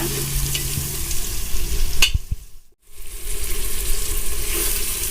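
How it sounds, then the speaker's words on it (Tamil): Tomatoes being stir-fried in a pan for mutton biryani give a steady, close sizzle with scraping stirs, broken by a brief near-silent gap midway before the frying noise resumes. "நல்லா கிளறி விட்டுட்டு இதையும் தக்காளியும் கொஞ்சம் நேரம் வதங்குறதுக்கு விடுங்க"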